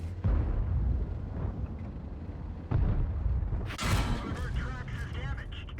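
Cannon fire from the M103 heavy tank in World of Tanks: a few heavy booming blasts thump through a rumbling battle backdrop, followed by a sharp bright impact, while someone talks throughout.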